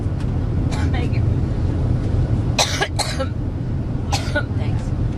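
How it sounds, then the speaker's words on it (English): A woman gives a few harsh coughs in quick clusters aboard a campaign plane, over a constant low rumble of engine noise, with a short pause between bouts. "She had another coughing fit and attack while speaking with reporters on her campaign plane."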